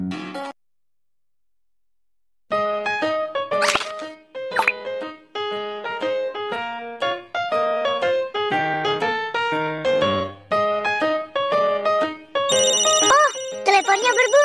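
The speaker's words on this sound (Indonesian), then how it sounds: "Teleponnya berbunyi." Electronic telephone ringtone chiming in repeated melodic bursts after a brief pause, loud and close, with bright high tones near the end.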